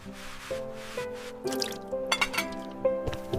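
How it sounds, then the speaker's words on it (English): Dishes being washed under running water in a home kitchen: irregular drips, splashes and clinks of crockery, moderately close, with no talking. "I wash dishes."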